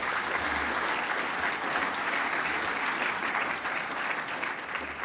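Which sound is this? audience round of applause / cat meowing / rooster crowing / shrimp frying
audience round of applause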